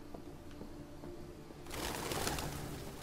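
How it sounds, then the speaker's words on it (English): Pigeons in the Detroit: Become Human video game, a broadband flurry of flapping and cooing that rises suddenly midway and stays loud to the end, over a quieter tonal game background. "Rats with wings."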